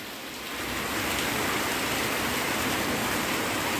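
Heavy rain pours down in Golvashi, Lanja, in a steady, dense hiss that swells slightly at the start and then holds loud and constant, with no voices.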